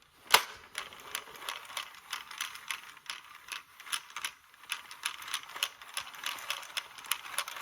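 A circular knitting machine turned slowly by hand gives off a steady run of light mechanical clicks and ratcheting ticks, close and fairly quiet, with no talking.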